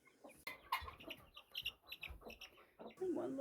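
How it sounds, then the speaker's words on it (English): Chickens, including Americana and barred rock hens, cluck softly in a farmyard as they are brought to food and water, with scattered quiet clucks and rustling, faint and close, and someone speaking now and then. "And here I come back with the other two chickens."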